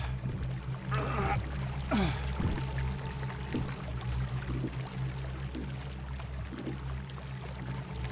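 Unconscious guards' bodies are dropped into water in the Thief video game, a couple of muffled splashes followed by steady pouring, trickling water ambience, fairly close, with no talk over it.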